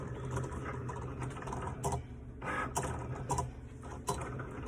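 A Cricut cutting machine cuts an image from heat transfer vinyl, a low steady mechanical hum with scattered soft clicks and ticks from the moving carriage, close and fairly quiet.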